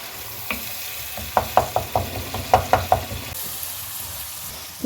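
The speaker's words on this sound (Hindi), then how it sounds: "अब मसाले को इसके अंदर अच्छे तरीके से भून लें" Ground turmeric, coriander and cumin powders being roasted in oil for kadhi pakora, a soft sizzle broken by a series of sharp spoon taps and stirring knocks.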